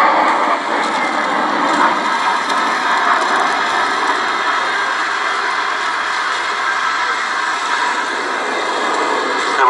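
Loud, steady roar of a Gloster Meteor T7 jet trainer's engines at the Duxford VE Day air show, a broad sustained rumble holding level for the whole stretch with no voices over it.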